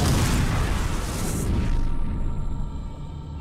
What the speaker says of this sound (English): Alright then, power bomb.